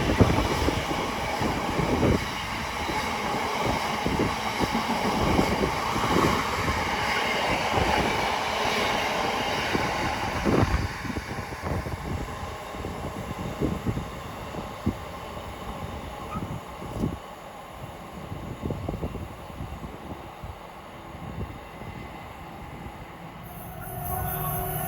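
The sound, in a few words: Class 66 train passing through Watford Junction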